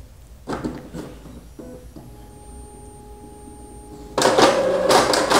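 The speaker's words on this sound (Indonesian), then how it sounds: "itu si printer ada aktivitas menarik kertas, tapi si kertasnya tidak berhasil tertarik alias paper jam" An Epson L3210 printer tries and fails to feed a sheet, jamming: faint motor whirs and clicks with a steady whine, then a loud burst of grinding, rattling feed mechanism at the end, with no voices.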